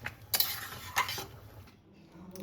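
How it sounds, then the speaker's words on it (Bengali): A spoon scrapes and clatters in a pan of jackfruit and golden mung dal curry seasoned with garam masala, a few sharp metallic strokes close by, then quieter stirring with a faint sizzle. "এবার একটু নেড়ে ছেড়ে নামিয়ে দিচ্ছি।"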